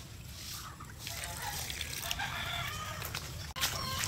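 Chickens on a flooded farm cluck and squabble in a close, busy flock, their calls layered over a steady wash of running water, with a voice speaking over them.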